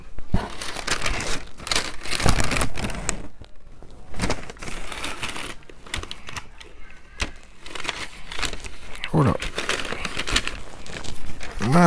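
Plain white tissue paper crinkles and rustles in loud, close bursts as a new pair of Air Jordan 13 Black Hyper Royal sneakers is unboxed, with brief pauses between handfuls.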